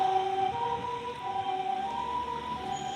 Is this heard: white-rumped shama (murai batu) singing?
no